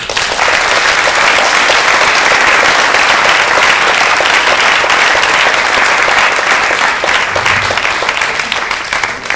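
A large crowd gives loud, sustained applause for the winners of an awards event, with dense, even clapping that holds at full strength for several seconds.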